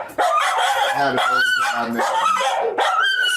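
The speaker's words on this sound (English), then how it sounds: "Just that little dog quits freaking out." A small dog barks and yaps excitedly in a room with an old stove, harmonic barks close and loud, repeating in bursts, with people talking over it.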